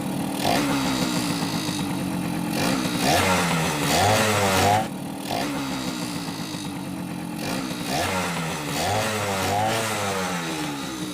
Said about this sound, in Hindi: बाइक हमारी स्टार्ट हो चुकी है।